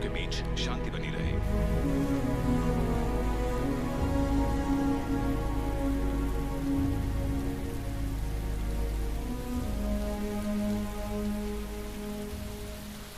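Steady rain falls in a dense, even hiss throughout, with a low rumble underneath, starting after a brief bright burst at the opening.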